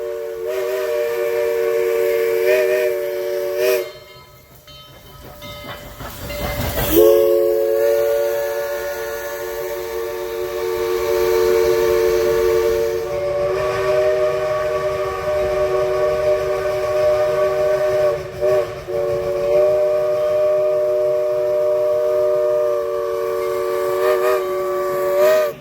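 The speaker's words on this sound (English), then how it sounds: "we caught up with 4501 and the Summerville Steam Special passing by Wilder Tower" Steam locomotive 4501 hauling the Summerville Steam Special past Wilder Tower in Chickamauga National Battlefield, its loud chime whistle sounding long sustained blasts over the rumble and clatter of the passing train, close and continuous.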